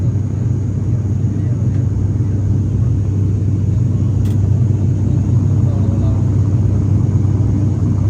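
A car driving along a road, heard as a steady, loud, low engine and tyre rumble that continues unbroken throughout.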